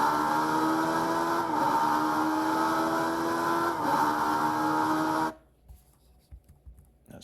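Radical SR3 race car engine in Assetto Corsa at Laguna Seca, a loud steady high-pitched drone with shifting tones that cuts off abruptly near the end, leaving near silence.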